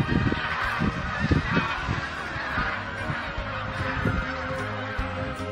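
Wild geese in the Kumya wetlands honk loudly and repeatedly, with overlapping calls in quick, irregular bursts all the way through.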